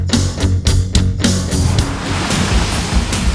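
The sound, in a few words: boat crossing the Malacca Strait, waves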